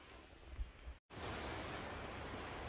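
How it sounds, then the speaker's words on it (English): Wind blows across a mountain campsite on the Appalachian Trail, a steady broadband roar buffeting the microphone. It cuts out briefly near the start, then returns as an unbroken rush, with no voices. "It's very windy here,"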